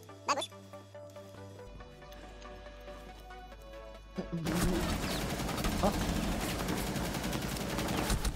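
Ying's automatic weapon firing in Rainbow Six Siege: after a quieter stretch with game sounds, a long, loud, dense burst of rapid gunfire erupts and continues without pause.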